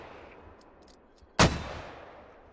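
A single mortar round fires in the video game Squad, one sharp loud boom that rings out and decays over about a second, with faint ambient noise before it.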